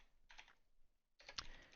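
Faint, quick keyboard taps in two short bursts separated by a brief pause, soft and close.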